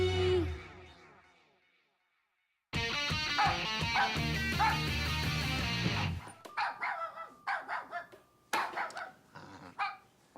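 A dog barks in a Hindi children's cartoon, a series of sharp, close barks and yips that follow a loud burst of music.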